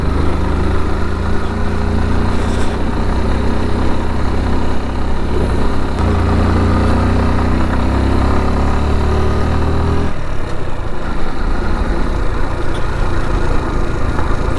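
Several motorcycles of arriving bikers rumble and idle loudly and continuously nearby, a thick steady engine drone with a shift in pitch partway through and no talking.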